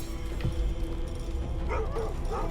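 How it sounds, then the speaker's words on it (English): A dog in Baldur's Gate 3 gives a couple of short barks and yips late in the moment, over a steady game ambience hum. "That's my dog."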